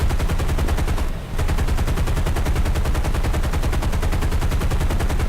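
Continuous rapid machine gun fire from an American aircraft in the War Thunder combat game, a dense, loud, unbroken rattle of shots with one brief dip near the start before resuming.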